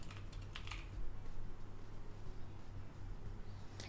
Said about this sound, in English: then we're going to type in PayPal